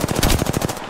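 Rapid automatic gunfire in Apex Legends on Olympus cracks out as a loud, close burst of about a dozen evenly spaced shots in under a second.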